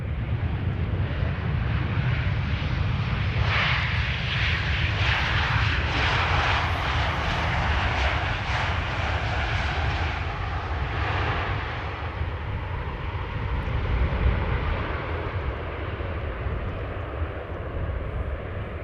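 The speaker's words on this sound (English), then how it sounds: "And this is Transavia returning from Salzburg in Austria, 737-800, flight 6592" A Transavia Boeing 737-800 arriving at Amsterdam Schiphol on runway 18R, a loud continuous jet engine roar with wind buffeting the microphone, swelling and easing as it passes close overhead.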